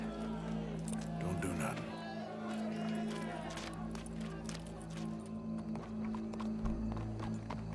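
Horse hooves clip-clop in Red Dead Redemption 2 in a town with a gathered crowd. There is a steady run of hoofbeats under constant low hum and background bustle, and voices talk over it throughout.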